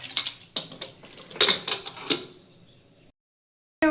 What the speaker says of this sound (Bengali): এখন শুধু সিটি মারবো কুকারে ঢাকনা লাগিয়ে